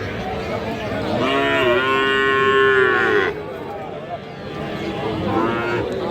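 A calf or cow at Raniganj cattle market, a Friesian or crossbred animal, gives one loud, drawn-out moo lasting about two seconds, close by, with market murmur around it.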